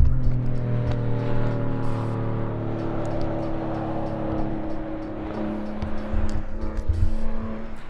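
A Porsche 911 sports car rips past on a road, its engine note loud and sustained with harmonic whine, swelling and fading over several seconds.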